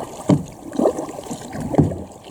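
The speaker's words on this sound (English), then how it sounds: "We need that paddle to actually paddle." A kayak paddled on open water, with three soft splashing paddle strokes about half a second apart over a low windy background.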